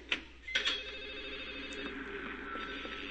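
A telephone rings somewhere in an apartment building in Silent Hill 4, its brief rings cutting in over a steady, droning game ambience and fading into the background.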